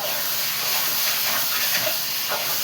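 Tadka tempering spices in hot oil gives a loud, dense, continuous sizzle and hiss close by throughout, with no talking.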